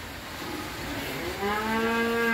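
At a cattle farm in Vinh Long, Vietnam, a French cream bull gives one loud, drawn-out moo near the end, after a stretch of quiet barn background with no voices.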